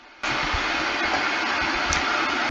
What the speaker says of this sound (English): this game literally makes my computer sound like a vacuum cleaner